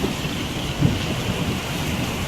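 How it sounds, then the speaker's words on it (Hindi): During a violent storm with strong wind, heavy rain pours steadily in a dense hiss while a brief thunder rumble swells up partway through, fairly close and with no talking. "उधर तूफान आ रहा है"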